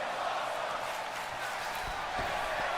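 A wrestling arena crowd roars steadily throughout, a dense sustained wash of cheering and shouts at moderate distance with no clear breaks.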